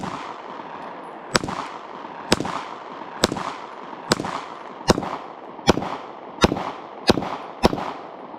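A .45 pistol fires nine sharp, loud shots at an outdoor range. The reports come at roughly even intervals of about a second, and each leaves a short echoing tail, with no talk between them.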